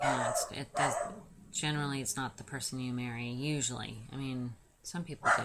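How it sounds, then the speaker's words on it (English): A dog barks in the background, sharp short yips mixed under a woman's continuous close speech. "I apologize for my dog in the background."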